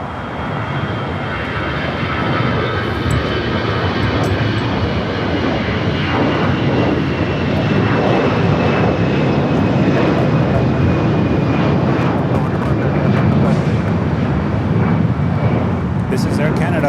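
A 17-year-old Air Canada A320 jet takes off at LAX with a loud, sustained engine roar and a high whine sliding gradually in pitch, steady throughout.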